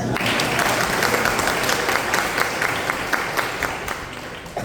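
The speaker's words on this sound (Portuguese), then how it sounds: "Salva de palmas." An audience bursts into a round of applause, many hands clapping in a dense, continuous patter that holds steady and then eases slightly toward the end.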